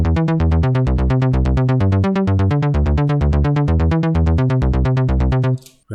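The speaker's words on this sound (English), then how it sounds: "I add a bass and I call it the movement bass in Progressive" A progressive house movement bass programmed in FL Studio, dry with no effects, pulses in a steady rhythmic sequence of short, punchy notes that shift pitch, loud and alone, cutting off near the end.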